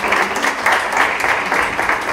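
Audience applause at a live e-commerce talk event in İzmir, welcoming a singer onto the stage: dense, steady clapping from a crowd held evenly throughout with no break.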